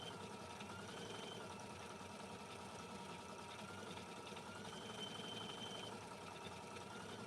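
A quilting machine stitches through the blue section of a quilt, giving a steady, continuous mechanical whir and hum with a faint rhythmic motor pulse, moderately quiet and unchanging throughout.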